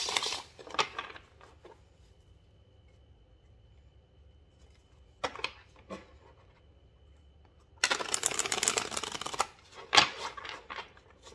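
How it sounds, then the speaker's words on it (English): Tarot cards being shuffled, soft riffling bursts with short pauses between them and a longer, louder shuffle near the end, close and fairly quiet in a still room. "I'm going to shuffle the cards three times"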